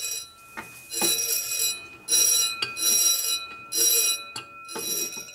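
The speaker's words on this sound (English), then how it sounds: "Okay, dinner bell's working." A loud electric bell, called a dinner bell, rings near a 1941 Harley WL 45 flathead motor being built, in several bursts of a few seconds each with short pauses between.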